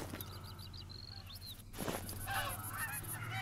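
Geese honk in the hunting video game theHunter: Call of the Wild during a bow hunt for geese, a quick run of short calls followed by a longer one, heard clearly over steady outdoor ambience before heavier noise and rustling take over.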